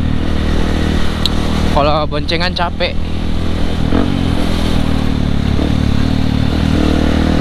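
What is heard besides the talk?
motorcycle riding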